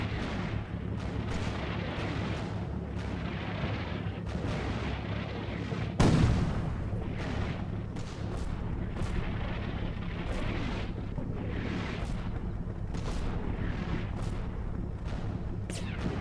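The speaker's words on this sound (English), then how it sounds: "This tank is firing close to it." Tank gunfire in the Combat Mission video game set in Poland 1945: a sharp single cannon blast cuts through a constant low battle rumble, with faint distant thuds scattered around it and no voices.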